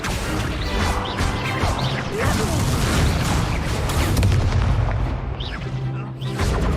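Spell combat in Hogwarts Legacy, with the Incendio fire spell cast amid a dense run of booming blasts and crashing impacts, loud and continuous, mixed with other spell effects.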